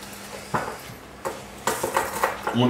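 Pestle crushing whole hazelnuts in place of a mortar in a home kitchen, a series of sharp knocking and grinding impacts arriving in irregular bursts, close and fairly loud.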